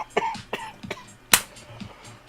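A single sharp, loud cough bursts out amid a few softer throat noises and small vocal sounds, heard close in an indoor setting.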